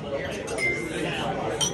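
Glasses clink in a toast at a dinner table in a summer vacation town, with bright glassy chinks over the chatter and talk of the diners.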